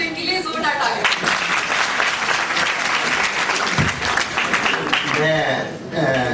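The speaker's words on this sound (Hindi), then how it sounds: "तो इनके लिए जोरदार तालियां" An audience applauds a speaker at an event with a sustained burst of dense clapping that fills several seconds, while a voice speaks over part of it.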